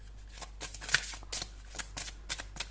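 New oracle cards being shuffled by hand, a series of short crisp riffling flicks in an uneven rhythm, close and fairly quiet against a low steady hum.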